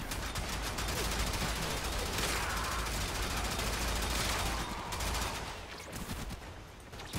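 Warframe gunfire rattles in rapid, sustained bursts that run dense and loud almost without a break. Faint sounds of the game sit underneath, and the firing thins out briefly near the end.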